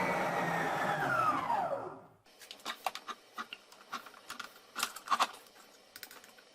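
A kitchen food processor runs with a loud steady whir for about two seconds, mixing water, egg, salt and flour into varenyky dough, then stops, followed by scattered clicks and light knocks.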